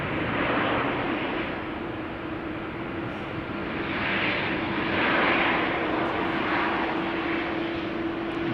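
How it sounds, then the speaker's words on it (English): A KLM airliner arriving from Oslo at Schiphol Airport passes with a sustained jet engine roar and a steady droning hum, loudness rising and falling gently across the pass. "KLM coming in. Having arrived from Oslo,"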